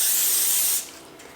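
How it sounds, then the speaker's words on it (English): Pam cooking spray spritzed onto a baking pan while making snickerdoodle cookies, one loud close hiss that cuts off sharply after under a second. "I'm going to spray it with some Pam."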